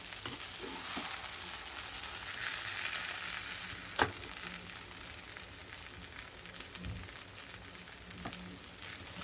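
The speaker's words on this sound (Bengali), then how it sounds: "দেখুন এটাকে নেড়ে এর সঙ্গে মেশাতে হবে।" Taro greens with coconut for a vegetarian Bengali dish fry in a pan with a constant soft sizzle, broken by occasional scraping stirs and one sharp knock, with no talking.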